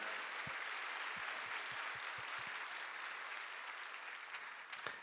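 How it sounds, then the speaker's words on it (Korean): A church congregation applauds steadily for several seconds, sounding slightly distant, with a few dull thumps underneath. "박수 한번 해주시겠습니까"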